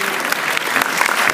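Brief, dense clapping from an audience at a cosplay contest, steady and fairly close, filling the whole moment.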